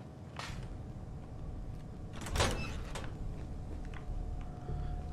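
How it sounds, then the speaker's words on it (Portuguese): Doors opening in Fallout 4: a few soft mechanical clunks and one louder sliding thud, heard over a steady game ambience hum, with no one talking. "Caraca, muita porta pra tá abrindo."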